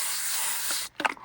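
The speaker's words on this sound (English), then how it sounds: "what happens if we now spray this" A spray bottle lets out one sustained hissing spray, then cuts off, followed by a couple of quick soft clicks and spritzes.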